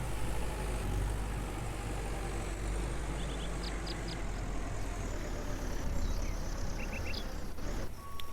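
A tractor engine idles in the Farmer's Dynasty farming video game, a low, steady rumble holding at a constant level throughout, with faint clicks over it.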